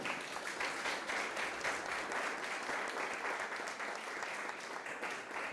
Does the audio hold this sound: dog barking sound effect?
no